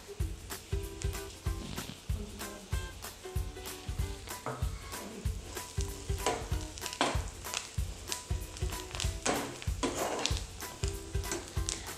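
Chicken manchurian, a low-fat version, sizzles and is stirred in a pan, with a continuous hiss broken by regular scraping and tossing strokes of the spatula against the pan.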